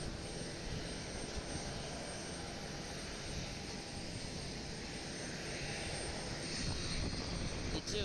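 Airliner engines roar steadily at Osaka Itami Airport as a flight bound for Tokyo Haneda departs, a broad continuous rumble at middle distance.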